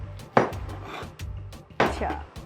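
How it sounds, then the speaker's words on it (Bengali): A kitchen knife chops through a pineapple on a board while making a tropical fruit smoothie: two firm, close thuds about a second and a half apart, with lighter taps and knocks between them. "আনারসটা আমরা কেটে নিচ্ছি এখন"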